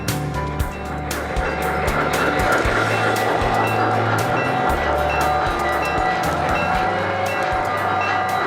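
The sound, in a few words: O-scale model train running on club layout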